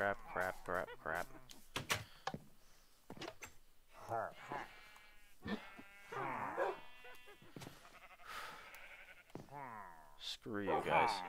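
Sheep bleating in the Minecraft video game during a nighttime raid, several short bleats scattered through steady game sounds, with someone talking over them.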